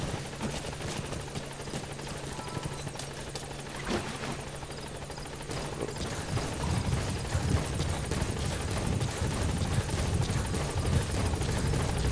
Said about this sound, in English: I can't get in the chopper